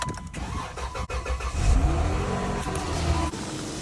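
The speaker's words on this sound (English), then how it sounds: "I'm so happy my car started." A car engine cranks and catches after a jump start from a portable battery jumper pack, then runs with a steady, fairly loud idle and a brief rev, with no talking.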